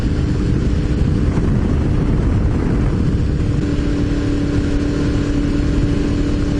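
Motorcycle engine running at low RPM during a ride, with a coolant hose punctured and leaking, giving a loud steady drone that blends with heavy wind rush and stays even throughout.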